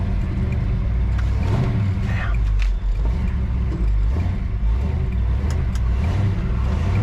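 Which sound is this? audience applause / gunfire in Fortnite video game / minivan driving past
minivan driving past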